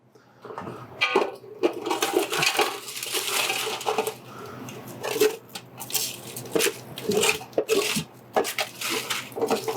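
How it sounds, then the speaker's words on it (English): Vegetables for a stew scraped and stirred in a hot pan during deglazing, with clattering, scraping strokes and a bubbling sizzle, close and fairly loud with no talking. "I'm going to deglaze the bottom of this pan as well, so we get the vegetable flavor off the bottom there"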